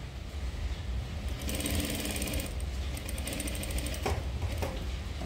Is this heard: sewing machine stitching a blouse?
yes